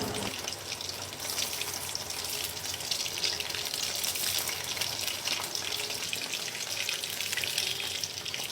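Chicken pieces frying in hot oil in a kadai, giving a steady, even sizzle and crackle that continues without a break, fairly quiet and heard on its own.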